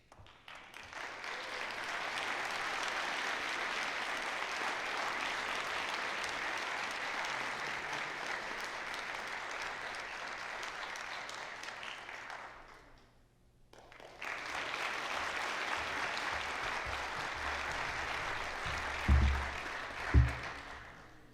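An audience applauds steadily for about twelve seconds at a university graduation ceremony, pauses briefly, then claps again; a couple of low thumps near the end.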